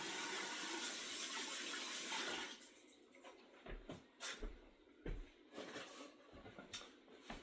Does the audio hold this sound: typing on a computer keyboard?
no